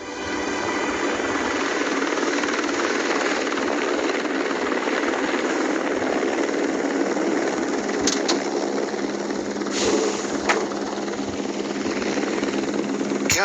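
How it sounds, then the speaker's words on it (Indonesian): Constant thumping drone of a video game helicopter's rotors and engine, steady and close, with a couple of brief sharp clicks partway through. "Lalu dia kabur dari penjara itu menggunakan helikopter."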